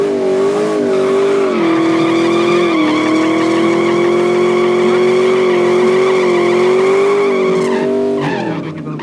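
A 1978 Cherokee and a Porsche drag racing at an event, producing a loud, sustained engine roar with a steady high pitch that dips briefly and rises again before cutting off.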